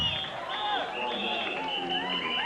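A crowd cheers and applauds at a 1994 UK jungle music show, a dense, steady roar of voices and whoops held throughout.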